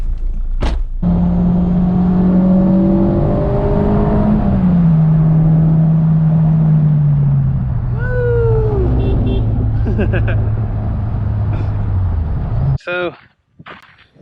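A DC5 car with a restomodded transmission: its engine hums and rumbles steadily as it drives along the road, the pitch shifting with speed, until it cuts out near the end.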